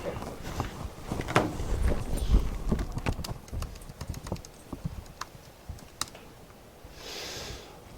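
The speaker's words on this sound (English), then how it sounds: "I gotta go over here and type it in" Computer keyboard typing at a church sound-mixing desk during a worship session, with irregular close clicks and taps over a busy room hum.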